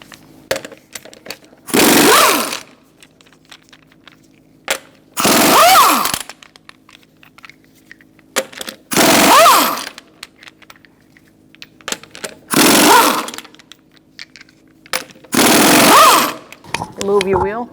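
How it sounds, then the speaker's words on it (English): An impact gun with a 21mm socket removes lug nuts from a Chrysler 300 wheel: five loud, separate bursts of whirring rattle, each about a second long, with quiet gaps and small clinks between them. "Using a 21mm socket, we're going to remove our lug nuts."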